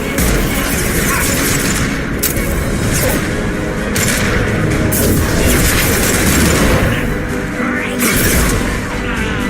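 Weapons fire heavily in a Mass Effect 2 combat scene, producing a dense, loud, continuous roar of shots and booms with repeated sharp bursts throughout.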